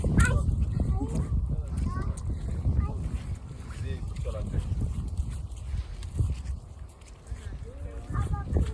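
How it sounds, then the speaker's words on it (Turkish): Steady strong wind roars and buffets the microphone throughout, with people talking faintly underneath, outdoors on Akdağ during canoe preparation. "Çok rüzgar var"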